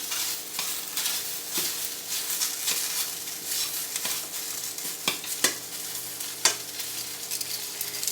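Fish pieces sizzle loudly in a hot pan while a utensil stirs them around, producing occasional distinct scraping knocks over a constant bright hiss, close and without voices.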